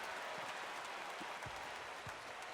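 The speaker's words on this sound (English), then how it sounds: "the home crowd, they are cheering" Home crowd at a women's basketball game cheers and applauds steadily after a made free throw, a broad continuous roar of clapping with a few louder bursts, no talk over it.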